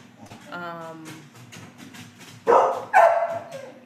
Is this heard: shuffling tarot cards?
no